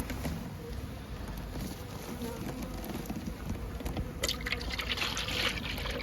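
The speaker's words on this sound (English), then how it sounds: "So if we just fill them up with sugar syrup." Sugar syrup poured into beehive feeders during spring colony buildup, a steady liquid trickle and fill over a continuous low rumble, close by, with no talking.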